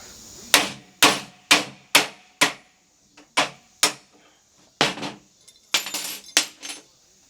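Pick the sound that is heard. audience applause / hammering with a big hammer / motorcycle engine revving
hammering with a big hammer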